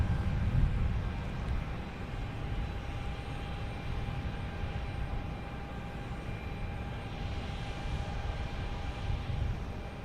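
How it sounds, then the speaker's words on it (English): An Azores Airlines airliner takes off at Boston Logan Airport, a broad, steady jet-engine roar heard from a distance, holding fairly even with a slight swell near the end. "That is Azores Airlines, pure livery, taking off, heading to Ponta Delgado."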